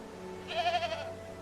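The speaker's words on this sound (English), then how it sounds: "The little goaties." A single young goat bleating in the medieval life-simulation game Medieval Dynasty, one short wavering bleat over a low ambient hum, close and clear.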